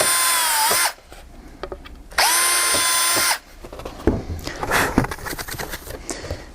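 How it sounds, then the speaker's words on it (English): Power drill boring holes for Dzus quarter-turn fasteners in a deck lid panel, two sustained whining bursts close by, each about a second long, followed by clattering handling and tool noises. "So now I can go ahead and drill these."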